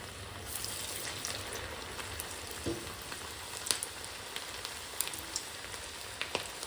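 Corn vadas dropped one by one into hot oil sizzle and fry steadily, a continuous close crackle with a few small pops and bubbling bursts, no voices.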